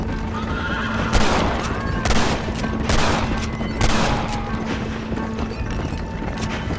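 Gunshots in Red Dead Redemption amid a busy frontier scene, several loud cracks spaced about a second apart over a horse's whinny, hoofbeats and steady background noise.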